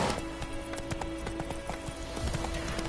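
Roach, a horse in The Witcher 3, gallops with steady, rapid clip-clop hoofbeats over a constant ambient bed, at moderate volume and fairly close.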